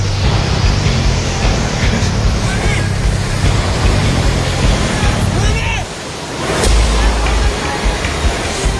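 Swollen Trishuli river floodwater rushes in a loud, continuous roar at close range, dipping briefly in the middle and then surging back, with wind noise mixed in.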